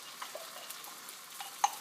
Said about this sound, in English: you can hear that sizzle so you know it's nice and hot.